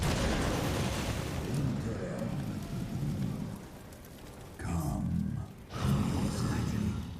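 A dragon in Dragon's Dogma: Dark Arisen unleashes a long, roaring gush of fire breath, a dense rumbling blast that swells, briefly cuts out, then surges again in two more bursts near the end.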